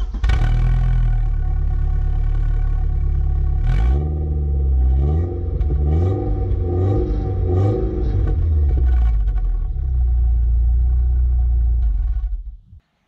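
A worn Audi engine running without a turbo, loud and rough, with a steady rumbling idle broken by several rising and falling revs in the middle before it cuts off abruptly at the end.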